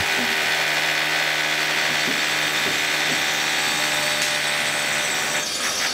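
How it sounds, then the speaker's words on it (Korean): A power tool cuts a steel H-beam to length on a two-storey brick building reinforcement job, giving a loud, steady, unbroken grinding roar with a few faint knocks beneath it. "h 빔을 시공될 길에 맞춰 재단 작업을 진행해주고"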